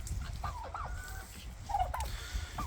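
Turkeys on a small farm, with a few short wavering calls and gobble-like notes rising over steady low background rumble, moderately near.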